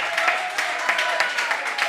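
Studio audience applause for a performer on a French comedy show, a continuous moderate patter of many hands clapping, somewhat distant and even, with a voice faintly under it.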